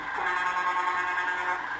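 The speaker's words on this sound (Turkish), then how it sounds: "Bu da havalı kornamız." A truck air horn in the game Euro Truck Simulator 2 gives a single continuous, loud, brassy blast with layered tones that holds steady for almost two seconds.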